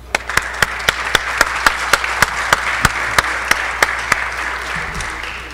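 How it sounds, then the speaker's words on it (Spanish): Steady rhythmic clapping from an audience in a state legislative hall during a youth congress session, sharp evenly spaced claps over a wash of crowd noise that fades near the end. "Reciban un fuerte aplauso."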